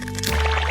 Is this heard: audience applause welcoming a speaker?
no